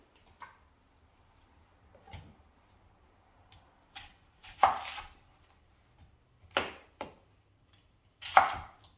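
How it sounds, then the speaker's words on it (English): A knife roughly chopping an onion into thick pieces on a board, a handful of sparse, separate thuds and taps spread over several seconds in a quiet room, close and fairly soft. "I want the onion kind of thick chopped too"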